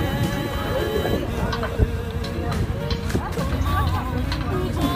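Camargue horses neigh and shuffle amid a windy, noisy outdoor setting in Provence with bulls and cows nearby, a brief whinny standing out from constant background rumble while people talk.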